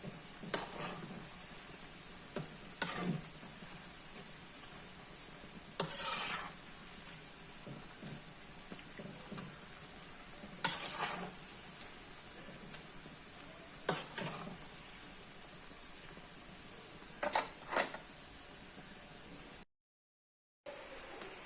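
Tapioca pieces fry in a pan as kappa upperi, with a steady sizzle and occasional sharp scrapes of stirring spaced several seconds apart, close and fairly quiet, with no voices.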